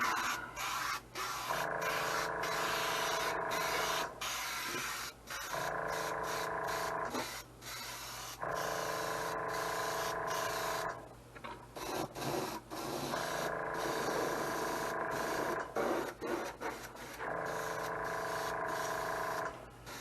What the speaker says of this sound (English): why don't I just finish spraying this up real quick